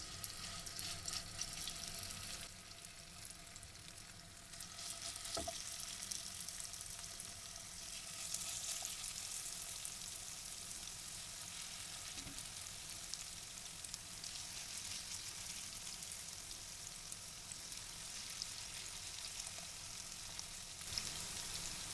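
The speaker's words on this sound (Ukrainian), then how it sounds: "На розігріту сковорідку викладаємо фарш ложкою" Steady sizzling of pumpkin and minced-meat patties frying in a hot pan, a constant crackling hiss with an occasional clink, no voices.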